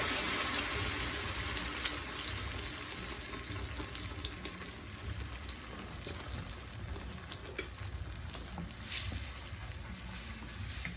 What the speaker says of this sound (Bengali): চুলার প্যানটা গরম হয়ে গেছে, একটু তেল দিছি, এখন আমি এই যে টমেটোর পেস্টটা আগে ঢেলে দিলাম।